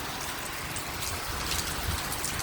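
Steady rain falls on a wet evening, a dense, even hiss of drops hitting surfaces with no pauses and no voices over it.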